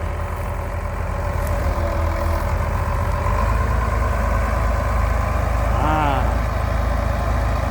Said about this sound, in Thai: เครื่องยนต์ 200 แรงม้าก็ อาจจะประหยัดเชื้อเพลิงครับนะ